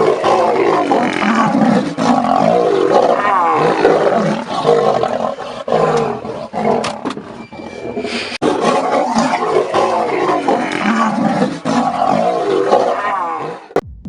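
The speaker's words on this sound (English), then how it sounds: "a young lion bleeding but still knocking out the big adult male known as Claude" Lions fighting in the Maasai Mara, a young male attacking a large adult male: loud, close, continuous roaring and snarling that swells and dips for the whole stretch.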